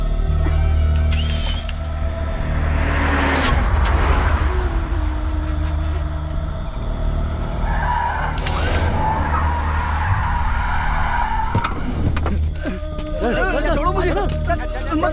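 A car drives in and skids with squealing tires in a dubbed South Indian action movie scene, loud sweeping tire noise rising and falling over a music and effects bed, with brief dialogue around it.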